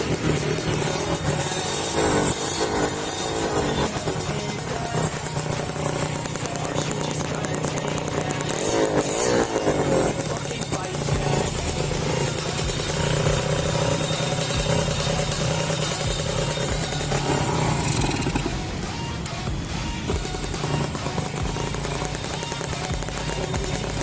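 A Kawasaki Ninja 600 fitted with a Crimpie exhaust, super kit off, runs steadily and loudly up close for over twenty seconds, its raspy, tinny drone rising and falling slightly with revs.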